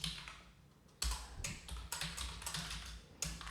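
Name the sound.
typing on a computer keyboard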